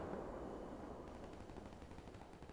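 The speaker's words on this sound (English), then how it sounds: "No, the Leopard 2K is shooting at Uki as well" Tank gunfire from a Leopard 2K in a war video game, a dense, continuous barrage of booming shots and rumbling blasts at steady loudness with no talk.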